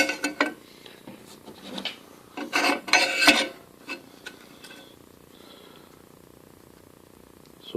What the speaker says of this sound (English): That's going to have to be hand filed.